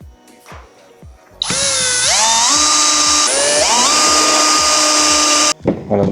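A power drill spins M5 screws into the outer left door of a Mercedes Sprinter van, a loud high whine that rises in pitch over about four seconds with a brief stop midway, preceded and followed by light clicks.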